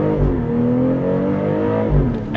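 A 2024 BMW X3 with a ZF automatic transmission accelerates hard from inside the cabin, its engine note climbing steadily through the revs before a gear shift, loud and continuous with no talk.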